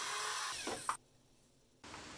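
A power drill bores pocket holes into wooden pieces, a loud whining drive that winds down, then a short pause before the motor starts again, heard close and alone.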